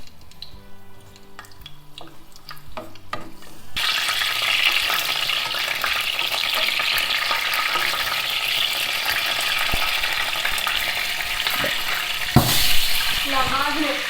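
A chili pepper frying in oil in a pan, with a loud, steady sizzle that bursts in suddenly and holds, a brief clatter near the end.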